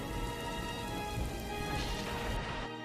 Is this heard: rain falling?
yes